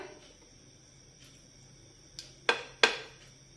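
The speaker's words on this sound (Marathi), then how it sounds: "गॅसवर मी पॅन गरम करायला ठेवलेला आहे" A metal pan is set down on a gas stove with a few sharp clanks, two louder ringing knocks close together after a quieter tap, against a low steady background hum.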